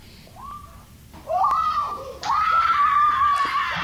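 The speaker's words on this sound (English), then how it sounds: "So they had a gunshot, and now they're all screaming." People scream after a gunshot, with shrill, wavering high cries that rise and hold in several loud bursts, close by and alone.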